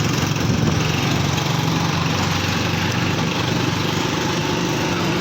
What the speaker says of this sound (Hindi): यार मोटरसाइकिल फंस ना जाए हैदर। और नहीं फंसती यार